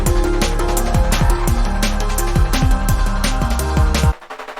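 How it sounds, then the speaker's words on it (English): Synthesizer tone panned left to right by an LFO, playing a rhythmic run of gliding, pitch-bending notes that stops abruptly near the end, loud and without voices. "So now you can hear it panning around."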